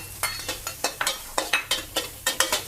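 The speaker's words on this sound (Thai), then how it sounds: "ตั้งกระทะหอมแดงค่ะ ลงไปคั่วให้หอมก่อน" Sliced shallots dry-roast in a frying pan while a utensil stirs them, making a quick series of short, crisp scraping strokes in an even rhythm, close and clear, with a faint sizzle beneath.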